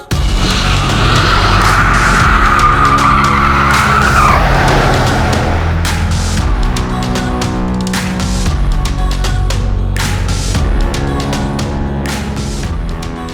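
A Toyota GR Yaris's tires squeal loudly as it skids through a corner on the handbrake, the engine roaring and revving close by with sharp gear changes.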